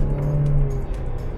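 A Mercedes C 300 engine pulling hard under throttle from inside the car, a loud steady drone with a rising tone that eases after about half a second, no talk.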